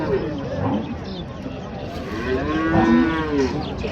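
A dairy cow moos in long drawn-out calls at a busy rural cattle market in Ranigonj, Dinajpur, Bangladesh, with the lowing rising over steady crowd chatter and nearby voices haggling.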